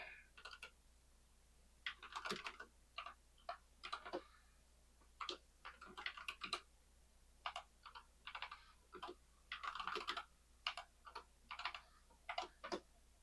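Keys on a computer keyboard are tapped in quick irregular bursts as commands are entered, close and crisp clacks separated by short pauses, with no talking.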